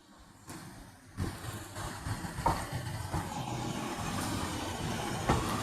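A train on the Esk Valley Line in North Yorkshire, heading toward Grosmont, rumbling in from quiet with rising clatter and wheel clicks on the rails, growing louder and steady by the end.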